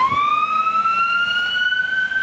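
An ambulance siren sounds loud and near, holding a steady, slowly rising wail with no speech over it.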